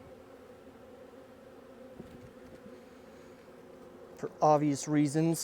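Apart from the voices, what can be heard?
honeybees buzzing at hive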